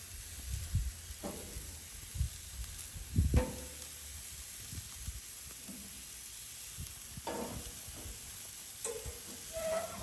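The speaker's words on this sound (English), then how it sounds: "And now I'm going to put my zucchini on and get it started" Zucchini sizzling on a grill, a steady low hiss throughout with scattered soft thumps and scrapes from handling, moderately close, no talking.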